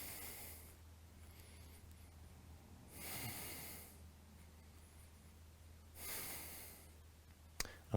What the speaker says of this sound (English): Keep your breathing long and smooth here.